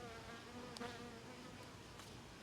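A housefly buzzes steadily and fairly close throughout, a continuous droning hum with slight swells, heard in an indoor setting with no one talking.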